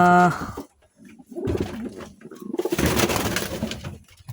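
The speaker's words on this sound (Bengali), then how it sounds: "এই কবুতরটা আসলে আপনার গিরিবাস কবুতর" Close cooing from a male Giribaz pigeon in a few deep, rolling bursts, with brief quiet gaps and some handling noise.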